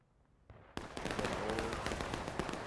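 A musket volley goes off in the Civil War game War of Rights. Scattered shots start it, then a dense, loud crackle of many muskets firing together follows and holds steady.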